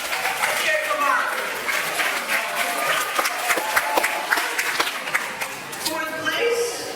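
An audience at a bodybuilding show claps and cheers steadily for about seven seconds, with sharp hand claps over a crowd murmur. An announcer's voice is heard briefly.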